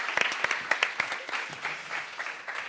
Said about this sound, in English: please give a big round of applause to Patricia Wexler, Manuel Porter, and Angela Perez.